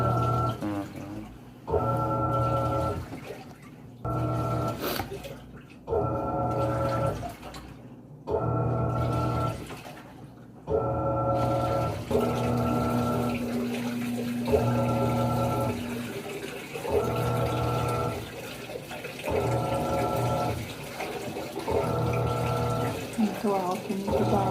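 Panasonic 14 kg washing machine on its rinse cycle, a motor drone cycling on and off in regular bursts with sloshing water, loud and close, with a voice speaking over it.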